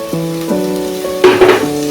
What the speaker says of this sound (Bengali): গ্যাসের ফ্লেমটাকে লোতে রেখে নারকেলটাকে কন্টিনিউ ভাজতে থাকবো